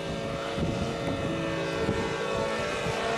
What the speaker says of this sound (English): As you can see, it flies really well, Tim. Yeah, this is about half throttle.